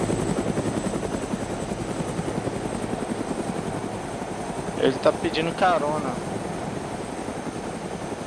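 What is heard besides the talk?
helicopters flying in video game DayZ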